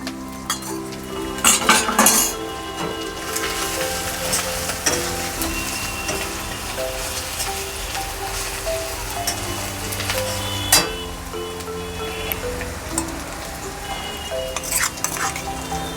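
Spice paste with cumin powder and mustard sautéed for a banana stem and prawn dish, a spoon stirring and scraping the pan with soft clinks over a steady low sizzle, no talking.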